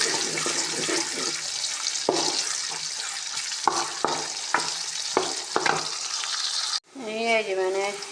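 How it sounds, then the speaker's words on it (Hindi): Onions fry in ghee for a potato and egg curry, giving a continuous bright sizzle with scattered stirring clicks. Near the end the frying gives way to a different, watery sound. "ये मैंने घी रख लिया है। अब इसके अंदर मैं प्याज डाल दूँगी।"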